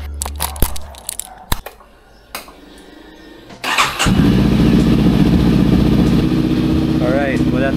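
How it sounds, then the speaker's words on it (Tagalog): Motorcycle engine starting after several sharp clicks and clunks, then settling into a loud, steady idle close by while the throttle is checked with the handlebars turned to each side. "i-on natin yung bike para marinig natin if nagta-throttle ba siya pag nakaliko or hindi"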